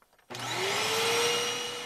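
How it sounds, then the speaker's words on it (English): A HEPA vacuum cleaner starts up with a sudden whine that climbs to a loud, steady, high-pitched roar, close by and alone after a brief quiet moment. "Vacuum with a high-efficiency particulate air vacuum or HEPA vacuum."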